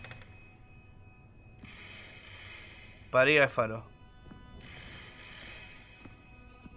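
Telephone ringing inside the video game Layers of Fear, one short loud ring burst in the middle, set against a quiet eerie ambience with a voice speaking briefly.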